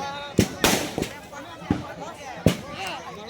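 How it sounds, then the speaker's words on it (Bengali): Firecrackers bursting outdoors: about six sharp, loud bangs at uneven intervals, with people's voices in between. "ওই বোমই ফাটাচ্ছি এই বোমগুলো তাও ফাটছে"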